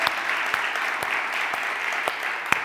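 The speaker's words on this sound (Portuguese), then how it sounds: "Será que você pode aplaudir a Jesus por isso" A church congregation applauds steadily, a continuous wash of clapping with a few sharper claps standing out.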